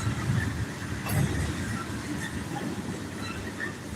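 A freight train rolls past close by, a steady rumbling clatter of wagons and wheels that holds loud throughout, with faint squeals over the din.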